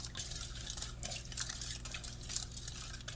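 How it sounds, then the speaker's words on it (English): A spoon stirs a tablespoon of sugar into yeast for bread dough, producing a steady scraping, clinking swirl against a bowl, fairly close and continuous with no talking. "put about a tablespoon of sugar in there and stir it up"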